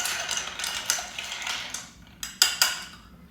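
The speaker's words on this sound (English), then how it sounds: "And we give this a good stir." A Highlander cocktail with Benedictine and bitters is stirred, giving a run of close metallic clinks and rattles that end in a few sharp, separate taps, with no talking.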